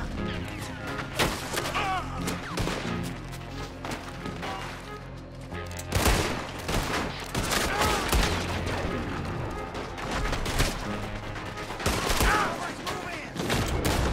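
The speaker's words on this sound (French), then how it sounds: "Oula, ça tire là." A fusillade of gunfire rings out in Red Dead Redemption 2 during a raid on the O'Driscoll camp: repeated rifle and pistol shots crack near and far, some in quick bursts, over game music.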